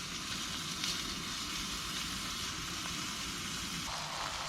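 Meat sears in a pan at a rainy campsite, a steady, close hiss and crackle running unbroken with no voices.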